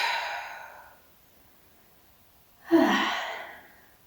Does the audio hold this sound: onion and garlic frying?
no